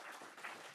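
Brief, faint applause fills a hearing room, with scattered clapping at a distance.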